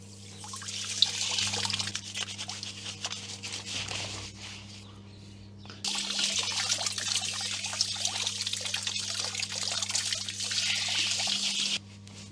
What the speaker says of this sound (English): So we've had the shower running now for the last quarter of an hour